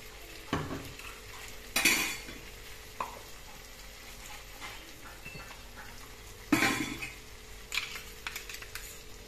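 A utensil stirs white mustard paste and water into okra and potatoes in a pan, making sharp intermittent scrapes and clanks against the metal over a soft simmering background.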